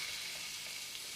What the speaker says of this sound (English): In a fry pan, I'm adding a little bit of ghee. It's on about a medium heat at the moment. And throw in the diced chicken breast